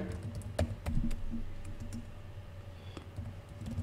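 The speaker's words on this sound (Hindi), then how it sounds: "हमने यहाँ पे टाइप किया" Quiet clicking keystrokes on a computer keyboard while typing in MS Word, a few scattered taps early and then sparse light presses, close and soft with a low steady background hum.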